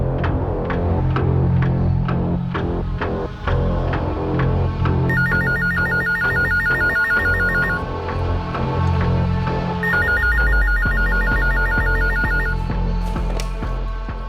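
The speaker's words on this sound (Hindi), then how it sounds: "अज्ञात औरत का फोन कॉल दोबारा आया।" Telephone ringing with an incoming call in a crime drama, two bursts of electronic ring tone over a steady, loud musical score and low throbbing background.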